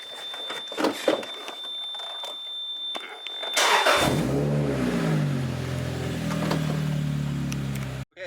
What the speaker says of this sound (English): Okay, the car's on.